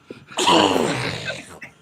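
A single sneeze up close, a sharp breathy burst that trails off, with a faint breath before it.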